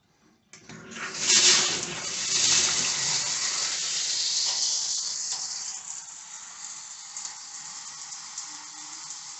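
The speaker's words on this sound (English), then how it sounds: "Turn on the shower valve." Water bursts on with a sudden hiss and keeps pouring steadily, a broad rushing spray that gradually settles into an even, slightly softer stream.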